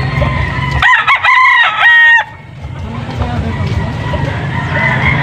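Near and loud, a Boston breed rooster crows once with a wavering, harmonic call at a bird market in Angeles City, Pampanga, over a noisy background where voices and other fowl are audible.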